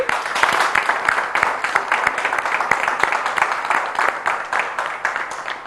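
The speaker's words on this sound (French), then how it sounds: "On l'applaudit." Audience applause at a French-language health show, a dense burst of many hands clapping that carries on steadily throughout, fairly loud and close.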